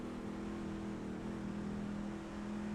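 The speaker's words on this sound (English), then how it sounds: "these cars are like super loud" Loud, steady engine roar from a pack of race trucks in an iRacing Gander Outdoors Truck Series race at Texas, a continuous dense drone with no pauses and no voices over it.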